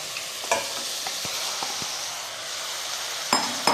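Chicken pieces fry with softened onions and tomatoes in a pan, making a steady sizzle broken by a few sharp clicks and scrapes of stirring, including a louder knock near the end.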